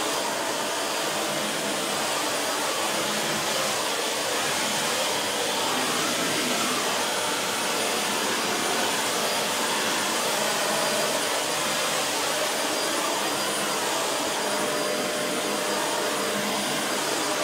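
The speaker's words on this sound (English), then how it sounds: "So I'm going to vacuum this little area with my Sharp." A Sharp vacuum cleaner runs nonstop at close range, giving a loud, steady, unchanging roar with no pauses or voices.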